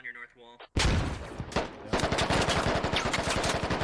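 Rapid automatic gunfire in a military shooter game, loud close bursts of machine-gun shots in fast rhythmic succession after a brief spoken voice at the start.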